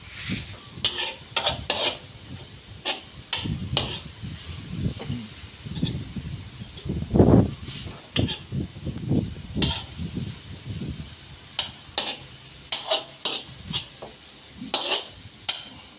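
Garlic and minced pork fry in a pan, giving a continuous close sizzle with scraping stir strokes and scattered sharp crackles throughout, fairly loud and unaccompanied by speech.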